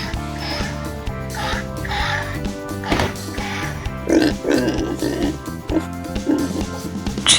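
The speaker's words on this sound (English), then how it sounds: "pig" Pig oinks from a toy sound effect come in short grunting bursts over cheerful background music, clustered in the middle and later part.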